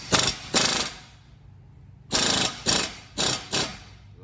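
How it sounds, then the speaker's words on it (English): Ratchet with a 1/2-inch stubby and 21mm socket breaking loose a Loctite-coated front brake caliper bracket bolt on a Jeep Wrangler Unlimited Sahara, close and loud, in two sharp bursts, then a pause, then four more quick clicking pulls. "we got us a 1/2" stubby with a 21mm for the bracket bolt"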